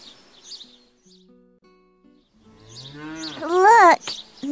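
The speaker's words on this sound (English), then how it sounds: "Wow, look at all the animals, Billy." A cow moos loudly near the end, with a drawn-out, wavering call, after faint bird chirps and soft farmyard sounds earlier on.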